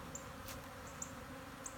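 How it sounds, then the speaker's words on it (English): Honey bees buzz faintly around a swarm trap set beneath a barn, a soft, steady hum with a few brief closer passes of individual bees. "that had bees checking it out under the barn"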